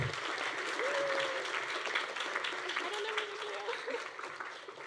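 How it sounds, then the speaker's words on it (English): An audience at a college science and mathematics senior awards banquet applauds an award winner, a steady round of clapping that slowly thins out, with a few voices rising briefly underneath. "So a big round of applause for Sheridan."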